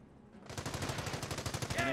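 Machine-gun fire in Company of Heroes, a steady rapid burst of evenly spaced shots starting abruptly after a half-second lull and continuing loudly to the end.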